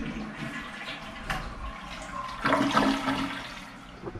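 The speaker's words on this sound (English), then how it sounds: "Toilet flush test, that's good. It does it quickly." A toilet flushing in a hotel bathroom in Iloilo, with a swelling rush of water that peaks midway and then drains and refills, loud and close, with no talking.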